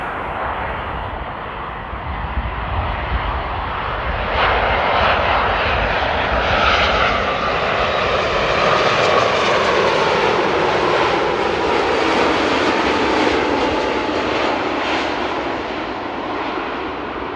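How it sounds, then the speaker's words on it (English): A Boeing 787 Dreamliner arriving at Amsterdam Airport gives a loud sustained jet roar that swells as it passes near, with a broad rushing whine that continues steadily and alone. "enjoy the Dreamliner here"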